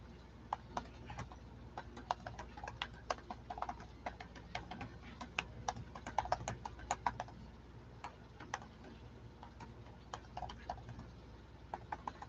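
Rapid, irregular clicking of fingers typing on a computer keyboard, close and fairly quiet, with keystrokes continuing steadily throughout.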